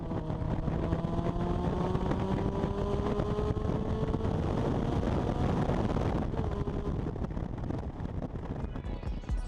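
A Kawasaki Concours 14 motorcycle engine is opened up on a desert road. The engine roars loud and continuous, its tone climbing steadily, with heavy wind rush throughout.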